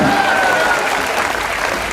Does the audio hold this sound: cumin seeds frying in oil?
no